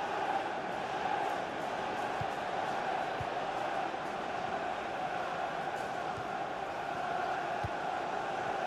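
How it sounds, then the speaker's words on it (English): A stadium crowd in the FIFA 17 football video game, a steady, distant roar of massed voices holding at an even level throughout. "And the crowd really enjoying it"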